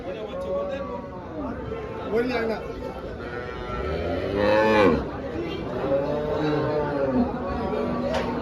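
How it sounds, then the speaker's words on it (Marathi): Several HF and Jersey cows moo repeatedly at a cattle market in Dhule, India, long low calls overlapping close by, one louder bellow midway, with faint background chatter. "संजय पाटील बोरपूर मांडळचे राहणार आहेत तर त्यांच्याकडं दोन गाई आहेत"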